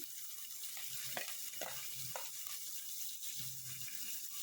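Onion and green chillies fry quietly in oil in a pulao pan, a soft, steady sizzle with a few light stirring clicks, faint and close.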